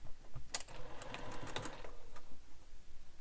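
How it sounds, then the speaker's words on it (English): A sewing machine stitches a fabric tube from corner to corner for a beach bag, a faint, quick mechanical rattle in a short burst under low room noise, with no talking. "Now I'm going to sew down from corner to corner."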